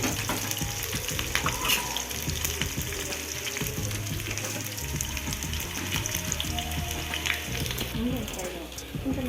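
Onions frying in oil in a pan for garlic chicken fry, with a steady loud sizzle and occasional stirring scrapes, close up throughout.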